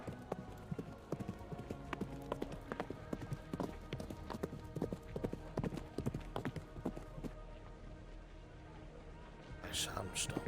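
Horse hooves clip-clop in a steady rhythmic stream in a role-play video game, quite faint overall, while players talk over the hoofbeats.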